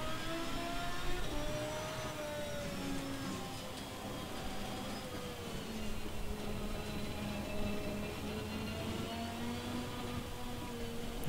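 Racing car engine in a racing video game at Suzuka, traction control cutting in so the engine note sags and stutters as if dying; a steady mid-pitched whine with shifting tones runs throughout at moderate level, no speech.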